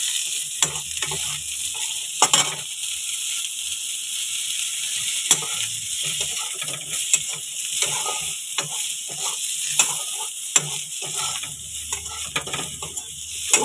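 Cauliflower frying in a small amount of oil, a steady close sizzle broken by frequent scraping and clinking as it is stirred in the pan.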